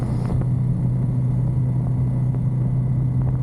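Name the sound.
Ducati Monster 937 motorcycle engine, downshifting to fourth gear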